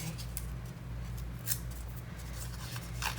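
A scissors edge is scraped along the edge of paper to rough it up, giving quiet rasping strokes with a few sharper scrapes over a steady low hum, with no one talking.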